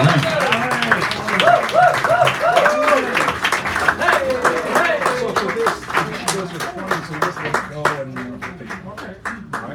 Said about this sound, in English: Give Sally a round of applause as she comes up here